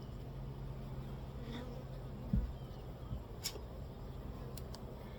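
Honey bees hum in a steady, moderate buzz at an open hive while brood frames are inspected, with a few brief louder knocks and sharper passes of individual bees.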